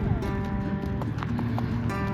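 Horse walking with hooves clip-clopping in an irregular rhythm over a rough, noisy background, with a person's voice briefly present.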